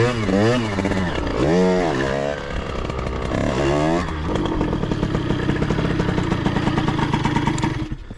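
A 50cc motorcycle engine revs loudly and continuously during stunt riding, pitch sweeping up and down in repeated surges before settling into a steady buzzing drone, close and dominant throughout.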